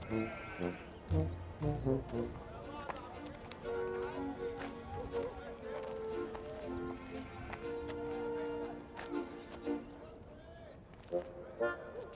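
Horse hooves clip-clop steadily under a busy mix of music and voices, with occasional bleating animal sounds mixed in.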